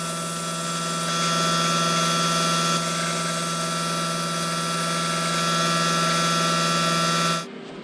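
Plasma cutter cutting holes in exhaust tubing for a K-series-swapped Porsche 911, giving a steady loud hiss and hum that runs unbroken for about seven seconds, then cuts off abruptly.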